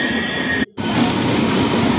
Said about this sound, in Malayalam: ഒരു ട്രെയിൻ പോയി, പക്ഷേ ഞങ്ങളുടെ ട്രെയിൻ ആയിരുന്നില്ല